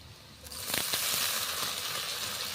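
Salted potatoes tipped into lightly fried onions in a hot pan, giving a burst of loud sizzling that swells and holds as a continuous close, crackling hiss, with a few stirring scrapes early on.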